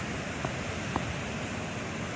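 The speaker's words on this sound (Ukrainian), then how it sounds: "на гірській річці" The Prut, a mountain river, rushes steadily in a broad, even wash of flowing water with no voices.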